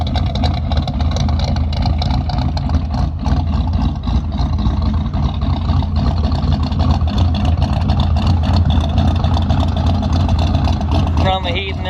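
An old J10 truck engine runs after a cold start on a freezing morning, giving a loud, continuous low rumble close by that holds steady throughout.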